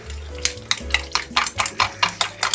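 Big Mac sauce mixture being stirred in a bowl, a quick run of about eight rhythmic clinking scrapes of a utensil, close and fairly crisp.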